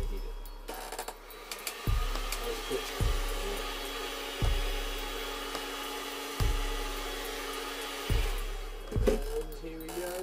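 A heat tool hums and blows while warming a sheet of Worbla thermoplastic, interrupted by several soft knocks and clicks at irregular intervals, moderately close but not loud.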